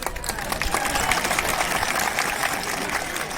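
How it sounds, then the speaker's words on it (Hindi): An audience at a political speech by Bubagra Pradyot on Greater Tipraland breaks into applause, a dense, continuous wash of many hands clapping that holds at a steady level throughout. "ताली मार सकता बुबागरा के लिए कभी कभी"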